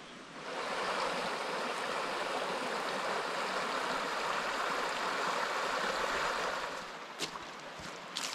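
A river flows steadily beside a walking track near Stevensons Falls on the Great Ocean Road, a continuous broad rushing of water heard close and fairly loud, easing slightly near the end with a few brief knocks.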